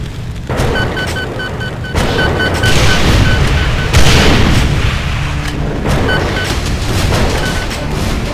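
Rockets in the video game Doom fire and explode in a loud, relentless barrage of deep booms and rumbling blasts, with beeping tones pulsing through the chaotic combat.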